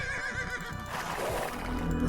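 A horse neighs in a medieval strategy video game, a loud close whinny with clip-clop hooves over the game's background sound.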